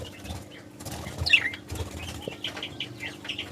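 Wings flap in quick fluttering bursts as budgerigars and Bengalese finches move about a cage, close and moderately loud, with a few soft chirps mixed in.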